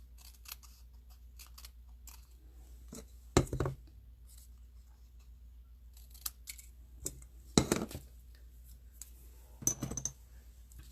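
Scissors cutting card stock for a handmade sympathy card, a few separate snips spread out over a quiet background.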